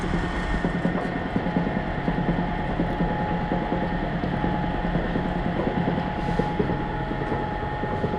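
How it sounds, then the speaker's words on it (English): A cold press oil extraction machine crushes seeds with a continuous heavy mechanical drone and rhythmic grinding, loud and close, steady for the whole stretch with no talking. "So immediately the oil will be extracted from the machine and get collected in the vessel."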